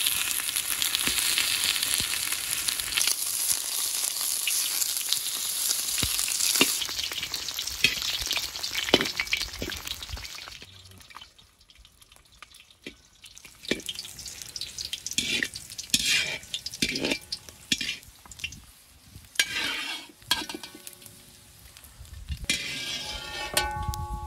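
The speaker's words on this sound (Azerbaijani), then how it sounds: "Qazanımız qızıbdır, indi piyi əridək görək," Fat is rendered in a hot cauldron: a loud, steady sizzle at first, then quieter bubbling with irregular crackles and stirring scrapes close by.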